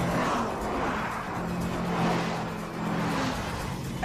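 A BMW, billed as the ultimate driving machine, pulls away hard with its turbo spooling in a drag race against other cars, a steady loud engine roar that swells and eases, with a faint whine over the rumble.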